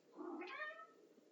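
A house cat gives a single short meow with a rising, then falling tone, heard alone and fairly close against a quiet room.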